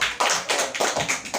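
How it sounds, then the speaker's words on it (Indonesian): A class of students clapping together, a quick close burst of several rhythmic claps in fairly even groups, with no talking over them. "kita tepuk tangan untuk laki-laki semuanya"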